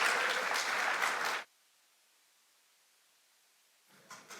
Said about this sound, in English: Let's give a hand of applause to David and Martin